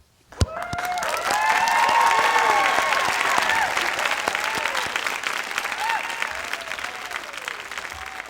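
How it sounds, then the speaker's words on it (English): A large crowd applauds graduates at the Oregon Tech 2021 commencement, swelling into loud sustained clapping with a few cheers and whistles, then slowly thinning over several seconds. "give a loud, proud round of applause for all of our graduates"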